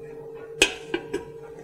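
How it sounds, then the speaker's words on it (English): A metal steam pan is set on top of a stock pot of boiling salted water, giving one sharp metallic clank followed by two lighter clinks as it settles, over a low steady hum. "You're going to take your steam pan and place it on top of the boiling water"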